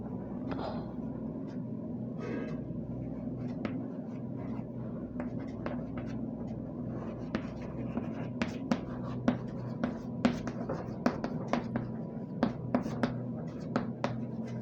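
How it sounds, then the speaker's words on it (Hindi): A pen scratches steadily across a page while a grammar lesson is written out by hand. The quick strokes get louder and denser toward the end over a low, constant background hum, with no speech. "एक निगेटिव सेंटेंस यहाँ पर लिख रहे हैं"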